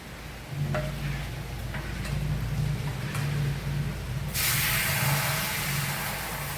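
Light ticking from a hot dosa griddle greased with sesame oil gives way to a sudden, steady loud hiss as rava dosa batter hits the surface and sizzles continuously.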